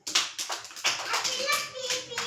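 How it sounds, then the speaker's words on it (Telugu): Children in a classroom clap together in short uneven bursts, close and fairly loud, with a voice and chatter mixed in. "సరే, క్లాప్స్ కొట్టండి మరి."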